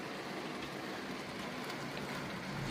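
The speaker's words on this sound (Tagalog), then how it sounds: "Lumakas na talaga ang ulan, guys." Heavy rain pours steadily, a dense, unbroken hiss with no voices.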